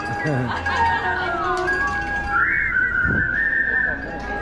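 An audience at Walt Disney World whistles a melody together with a barbershop quartet, a bright sustained tune with sliding notes, steady and fairly loud throughout.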